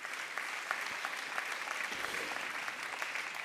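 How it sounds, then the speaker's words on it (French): An audience applauds steadily at the closing plenary session of a conference, with dense, continuous clapping that fills the room at an even level throughout. "je pense que vous pouvez les applaudir"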